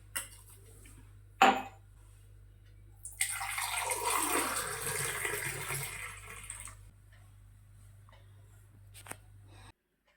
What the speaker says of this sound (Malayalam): ചെറു ചൂടുവെള്ളം ഒഴിക്കാവുള്ളൂ കേട്ടോ